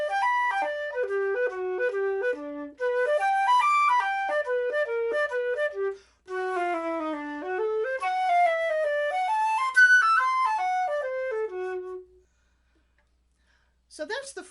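A flute plays Koehler's Opus 33 Book 1 Etude 2 Allegretto in a swung rhythm, with quick stepwise melodic runs in two long phrases, a brief pause between them, then silence and a faint final note.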